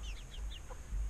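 Chickens clucking softly in the shade outside a chicken coop on a hot day, a few faint, brief calls over steady low background noise.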